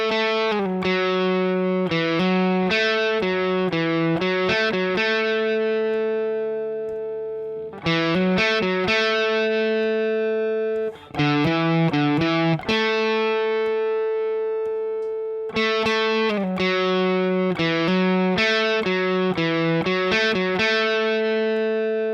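A distorted electric guitar lick from the verse of a song, with bright, ringing notes, played through twice in a row with a brief pause before the repeat; no voices.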